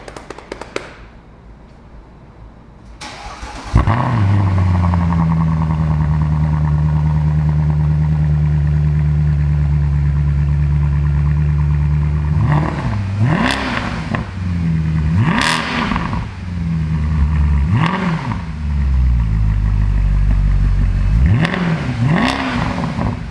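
A Mercedes C63 W204 with a stainless sport exhaust and valve control fires up and settles into a deep, steady idle, then gives several sharp throttle blips that swell and fall back, loud and close, with no voices.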